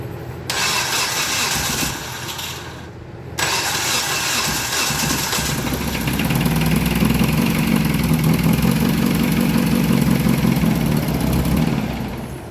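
Dodge Caliber 2.0L engine cranks, briefly catches, then cranks again before starting and settling into a rough, uneven idle, loud and close, with no talking.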